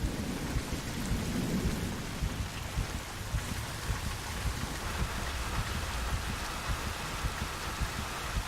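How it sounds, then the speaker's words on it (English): Heavy downpour with rolling thunder in the shooter The Bureau: XCOM Declassified. Dense, steady hiss of pouring rain with a low thunder rumble early on, scattered drops and thuds throughout, quiet and with no talk. "Falk sends you out in the pouring rain and won't even tell you what you're after"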